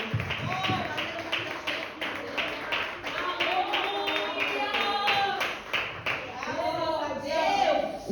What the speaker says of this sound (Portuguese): E as palmas louvam o nome santo do Senhor esta noite.